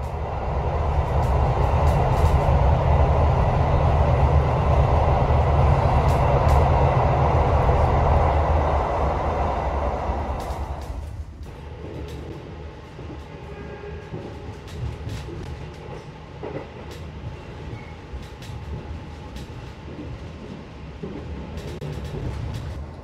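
The Argo Dwipangga passenger train rolling along at night with a loud, steady rumble that eases into a quieter interior hum with faint clicks and creaks.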